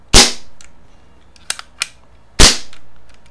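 A Daisy Powerline 1200 CO2 BB pistol fires two loud, sharp shots a couple of seconds apart, with small ticks and clicks between them, in an otherwise quiet setting.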